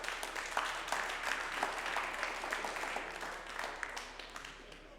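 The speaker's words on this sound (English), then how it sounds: "Yes, applause." Audience applause at a demoparty prizegiving, a steady wash of many hands clapping at moderate loudness from a crowd in a hall, continuous for several seconds with no talking over it.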